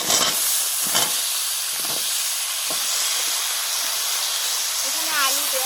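Cucumbers going into a hot pan with ginger paste and turmeric for a Bengali curry, giving a steady sizzling hiss with a few brief clatters, fairly close, no talk over it.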